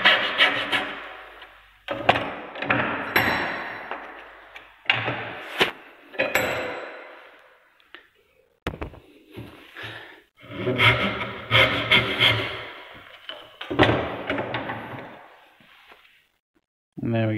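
Hand saw cutting the corner off a wooden dovetail piece clamped in a vise, heard as bursts of rasping strokes separated by short pauses, fairly close and moderately loud.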